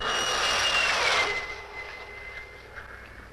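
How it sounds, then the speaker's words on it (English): Jet fighter aircraft streaking overhead in an old science-fiction film, a loud whooshing jet roar with a high whine that peaks early and then fades into the distance. "the piercing eye of radar and the speeding jet fighters"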